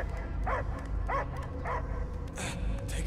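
A dog barks in the Guardians of the Galaxy video game, giving four short yapping barks at roughly even intervals over a low, continuous rumble.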